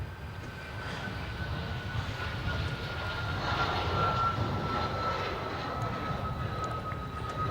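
A four-engine airliner at Melbourne Airport at night gives a steady, distant jet roar that swells gently and holds, with a faint whine riding above the broad rumble.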